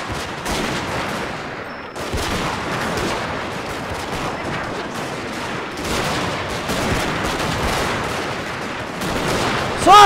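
Rapid musket volleys crackle from the video game Total War: Shogun 2, where roughly 600 US Marines fight 600 French marines in massed line battle, dense overlapping gunfire filling the whole stretch with no pauses and a sharp burst at the end.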